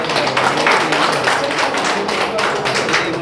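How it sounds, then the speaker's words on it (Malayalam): An audience at a highflyer pigeon race results announcement claps steadily and loudly in dense, continuous applause with close, rapid hand taps throughout. "എല്ലാവരും തന്നെ കൈയടിച്ച് പ്രോത്സാഹിപ്പിക്കുന്നതാണ്"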